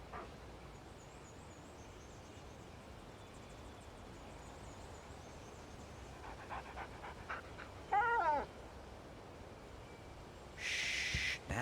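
A dog gives a short whimpering whine near the end, faint and close, over a quiet room tone in a museum hall beside a mammoth skeleton.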